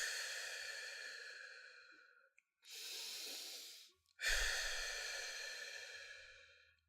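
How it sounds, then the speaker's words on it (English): Three slow, deep breaths follow one another, each a long airy inhale through the nose and a slow exhale through the mouth, close and quiet with brief pauses between, no talk. "Repeat, taking 2 more deep breaths in and out."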